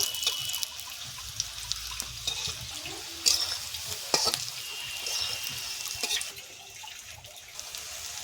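Soybean kofta balls fry in hot oil, dropped in one at a time, with a steady crackling sizzle broken by sharp spatula clinks and stirring scrapes, close and fairly quiet.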